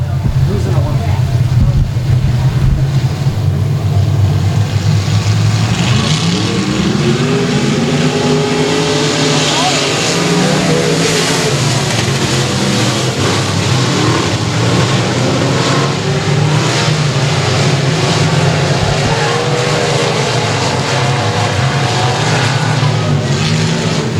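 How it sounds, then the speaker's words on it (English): Pro Mod race cars roar around a speedway oval during a main event, a loud, continuous engine drone whose pitch rises and falls as the field passes, with a public-address announcer talking over it. "Leading lap number 1 of your Pro Mod main event tonight, it'll go to the Roboline Rocket, Caleb Dill"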